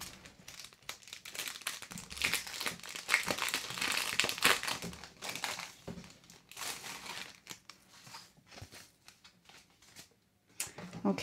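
Decorated birthday-card paper envelope being torn open and handled, with steady crinkling and rustling of paper and sparkly trim over several seconds, close and fairly loud with brief tearing bursts.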